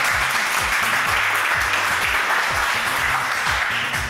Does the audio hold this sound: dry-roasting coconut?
no